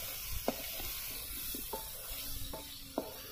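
Okra (bhindi) fries in a pan over a low flame with a faint steady sizzle, broken by a few soft scrapes and clinks of stirring.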